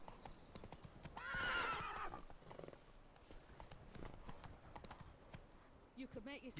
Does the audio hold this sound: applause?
no